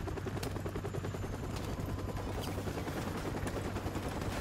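Dense, continuous gunfire from the video game Call of Duty Modern Warfare Remastered, with rapid overlapping shots and explosions forming a steady loud wall of combat noise and no talking.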